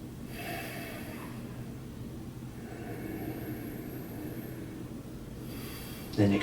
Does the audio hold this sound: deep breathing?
yes